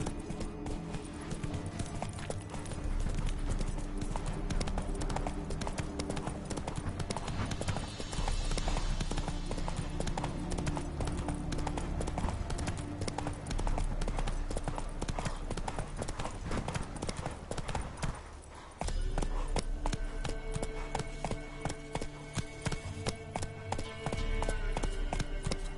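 Horse hooves clip-clop steadily through the Witcher 3 game world over a dense, continuous music and ambience bed, with a brief drop near the end before the galloping rhythm resumes.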